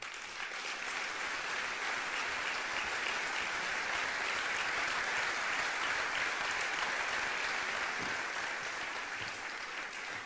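Sustained applause from a political rally audience, dedicated to Paulino Luesma and his family, fills the hall steadily with dense, even clapping that holds at a constant level throughout.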